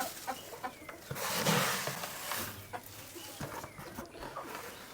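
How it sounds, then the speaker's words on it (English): Several chickens cluck and murmur close by, with a brief rustling burst in the middle and scattered soft calls throughout. "Chickens, they can make a mess now."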